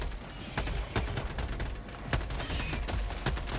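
Rapid bursts of machine gun fire in the video game Helldivers 2 crackle continuously, with sharp louder shots standing out over a dense, noisy battle din.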